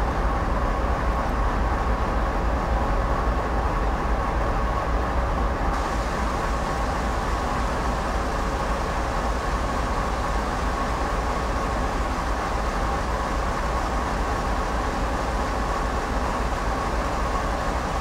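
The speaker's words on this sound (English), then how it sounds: "Now bring the train to a stop." Heavy CSX freight train in a Train Sim World simulation easing toward a halt on a slight incline, a steady loud rolling rumble with broadband rail noise and no talk.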